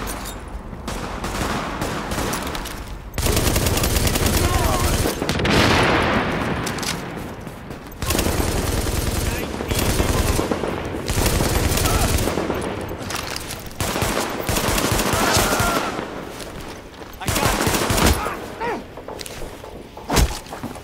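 Tom Clancy's The Division erupts in combat with long bursts of automatic rifle fire and heavy thuds, loud and near, broken by short pauses between volleys.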